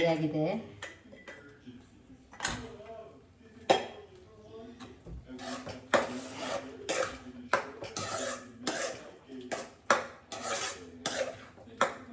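Steel plates wiped and set out in a home kitchen while preparing festival food, a run of clattering, clinking knocks and rubbing scrapes at close range, with a person talking throughout.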